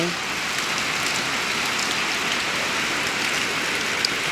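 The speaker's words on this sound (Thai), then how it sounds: "ฝนตกฝนตกบ่ได้ไปใส่เลยมือนี้พี่น้องฝนตก" Steady rain falling, a dense continuous patter with no pauses, close by and fairly loud.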